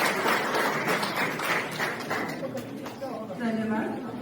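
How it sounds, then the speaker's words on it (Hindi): An audience at a theatre seminar applauds with dense, sustained clapping that fades out, followed by a speaker's voice. "हमारे लिए तालियां बजा लीजिए।"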